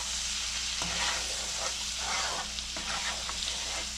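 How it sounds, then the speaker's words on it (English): Vangibath spice mix being stirred in a hot pan, a steady dense sizzle with soft periodic scraping strokes, close and even. "Give a gentle mix."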